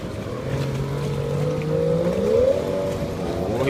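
A steady motor drone with rising and falling engine tones over continuous water and wind noise, a speedboat running at speed, its hull slapping the water with a repeated thudding, in Brunei.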